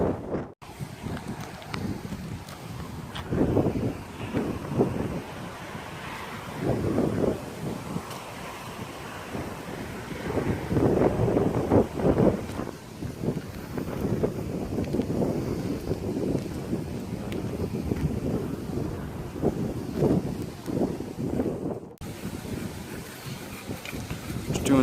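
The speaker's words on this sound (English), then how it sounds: "It is very windy over here, my hat's about to fall off." Strong wind gusts of roughly 20–30 mph buffeting a microphone on a rooftop during hurricane preparation, a loud rumbling roar that surges and eases throughout, with a brief drop-out near the end.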